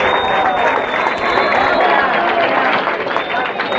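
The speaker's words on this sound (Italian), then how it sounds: "Applausi per lui" Crowd applause at an amateur football match between Stintino and Torres, clapping and cheering for a player leaving after his final game, a steady dense wash of hands with crowd noise running continuously throughout.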